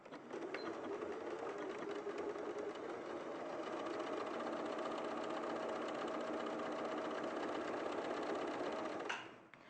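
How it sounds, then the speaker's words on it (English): Sewing machine stitching a quarter-inch seam in quilting fabric, a steady rapid mechanical whir with fine needle chatter running continuously for about nine seconds before stopping; close and alone. "So then I'll just sew a 1/4 inch seam down"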